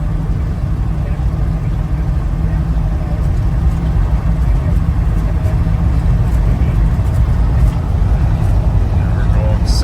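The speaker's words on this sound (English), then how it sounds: "We're out driving our 78 GMC Jimmy." A 1978 GMC Jimmy cruises down the road at speed, its engine giving a steady, loud low rumble mixed with road and wind noise, and someone talking over it.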